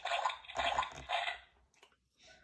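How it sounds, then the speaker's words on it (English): Cartoon splash of jumping into a great big muddy puddle: a few close wet slaps and splatters in quick succession, then faint trailing drips. "Daddy jumps in a great big puddle."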